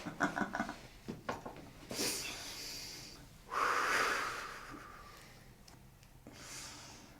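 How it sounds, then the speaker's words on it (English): A person takes slow, deep breaths in and out during a chiropractic organ manipulation session, with several short sharp inhales followed by longer, heavier wheezing exhales, close and fairly quiet, with no talking. "One more breath in and out."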